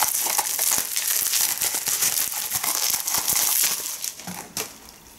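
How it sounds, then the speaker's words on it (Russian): Plastic packaging from an online order is snipped open with scissors, giving dense, close crinkling and crackling with a few sharper tearing bursts throughout, and no voices. "сейчас я вот тут ножницами это обстригу."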